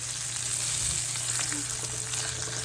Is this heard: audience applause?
no